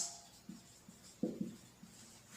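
Chalk or marker writing a sentence on a board during a grammar lesson, a few short scratchy strokes in quick irregular bursts, quiet and close, with no voice over them.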